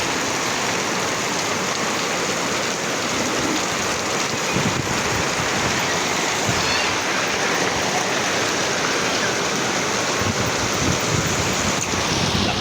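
Heavy rain pours steadily outdoors on a morning in the Philippines, a dense, loud, unbroken wash of hissing drops with gusty wind buffeting the microphone throughout.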